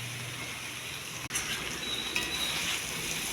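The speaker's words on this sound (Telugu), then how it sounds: "కొంచెం కలుపుకుంటూ ఉండాలండి." Okra fry with tempering is stirred in a hot pan, a continuous sizzle with a brief scrape of the spoon partway through, close and moderately loud, with no voices.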